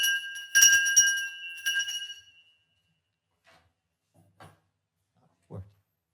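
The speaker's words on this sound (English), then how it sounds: "I'll ring the bell one last time," A small bell rung to open a physics talk at a neuromorphic computing seminar, several bright ringing strikes with a sustained shimmering decay, followed by quiet room sounds and a faint voice.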